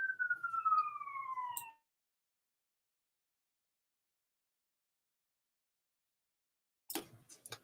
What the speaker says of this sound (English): there's a siren in the background here